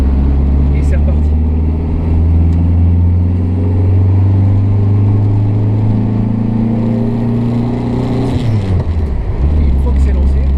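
Renault Frégate Domaine estate car from the 1950s driving on the road, its steady engine drone holding a low pitch that rises gradually before dropping sharply as the driver shifts, with faint road noise.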